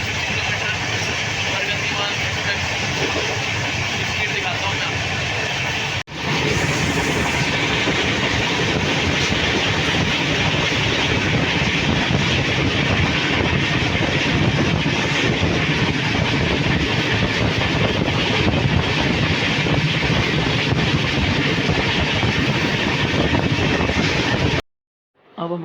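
Gatimaan Express train running at 160 km/h, a loud, continuous roar of wheels and rushing air with steady clickety-clack, unbroken for about twenty-five seconds apart from one brief dip, then cut off at the end.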